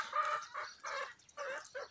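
Chickens and young roosters in a backyard flock cluck in several short bursts, fairly close, one call after another with brief gaps, no talk over them.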